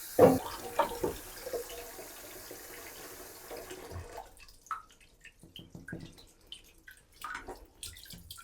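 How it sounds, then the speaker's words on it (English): Water running from a tap into a bucket during an 80s house renovation, a steady close gush that stops partway, followed by scattered drips and small splashes. "it's filling up the other bucket"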